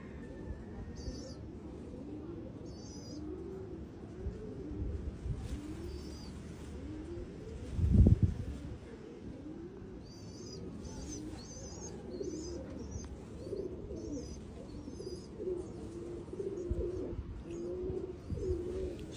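Domestic pigeons, a Jammu breed, coo steadily in soft, repeated low calls on a rooftop, with occasional chirps from smaller birds and a brief louder bump partway through.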